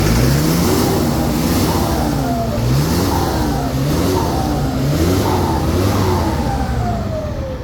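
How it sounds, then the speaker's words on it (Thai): A loud, continuous turbocharged pickup truck engine revving up and down in repeated surges, close by, with a steady rumbling drone beneath and no talking. "เดี๋ยวเรามาฟังเสียงเครื่องกันบ้างนะคะตัวนี้"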